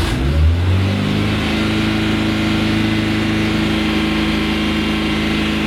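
A Renault Twingo with an idle fault starts up and revs hard, a loud close engine roar that settles into a steady, high-held drone.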